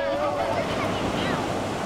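Ocean waves breaking on the beach at Point Bonita, a steady, loud wash of surf that never lets up, with a little wind buffeting the microphone.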